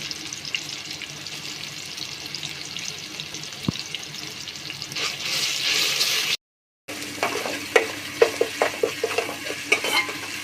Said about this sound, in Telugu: పచ్చిమిరపకాయలు ఉల్లిపాయలు కొంచెం అల్లం వేస్తున్నా